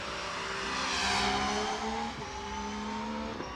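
A V6 race car engine roars past at high revs at a hill climb event, its tone rising and falling with gear changes, loud and continuous throughout.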